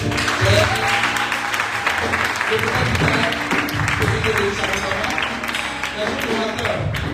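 A church congregation applauding during an evening worship vigil, dense sustained clapping filling the hall with voices and a speaker heard through it.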